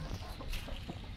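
Chickens on a livestock farm give short, soft clucks in one brief burst, fairly faint against the farmyard background.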